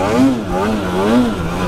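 A Polaris snowmobile engine drones steadily while riding through snow, its pitch rising and falling in gentle waves as the throttle shifts, loud and close throughout.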